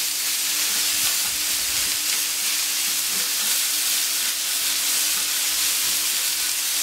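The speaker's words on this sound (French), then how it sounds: "je ralentis la plancha, je vais pousser les brochettes et après on va griller le riz" Chicken skewers, pineapple chunks and rice sizzle on a hot plancha griddle. The frying is loud and steady with a constant crackling hiss throughout, and no one speaks.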